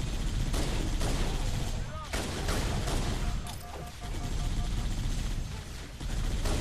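Gunfire in the video game Halo: Combat Evolved Anniversary, with loud, dense bursts of rapid shots that briefly dip between volleys.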